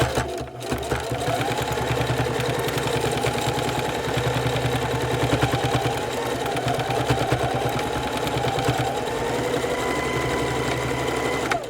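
A sewing machine runs steadily while stitching along a pants waistband being taken in, giving a close, continuous whirring buzz with a fast mechanical clatter and no pauses.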